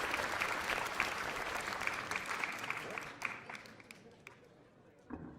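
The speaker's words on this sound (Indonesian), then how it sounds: "Tepuk tangan buat Iwan." An audience at a magic show claps for a boy volunteer, a lively wash of applause that thins and fades toward the end, with voices mixed in.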